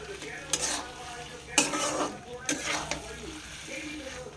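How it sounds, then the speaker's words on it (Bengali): A spoon stirs aloo dum, a spicy Bengali potato curry with special masala, in a pan, giving soft repeated scraping clacks over a low sizzle. "এবার একটু নেড়ে নেব।"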